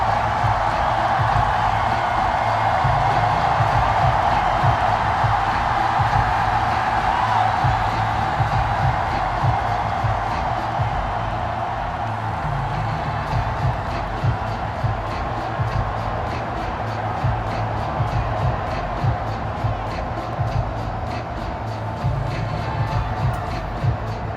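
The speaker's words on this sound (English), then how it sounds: "This crowd alive again" A stadium crowd in Madden NFL 22 keeps up a steady, dense roar of cheering throughout, loud and continuous with occasional swells, heard alone with no clear talk over it.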